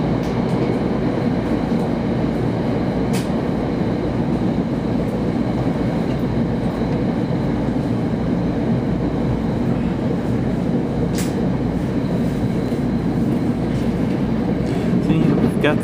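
An NJ Transit train rolls steadily along near Glen Rock and the Main Line toward Hawthorne, a continuous loud rumble of wheels and car noise from inside throughout, with a couple of brief higher squeals.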